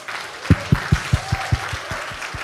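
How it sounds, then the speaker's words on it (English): Crowd applause for Carl Gershman at the World Movement for Democracy global assembly, with a run of about nine close, evenly spaced heavy claps standing out over a softer, hissing wash of clapping. "I would like to invite you all to give a round of applause to Mr."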